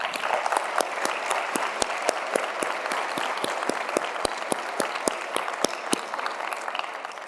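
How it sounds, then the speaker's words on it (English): Steady applause from a sizable conference audience, dense clapping that holds even throughout without voices. "let's give a round of applause to all of you"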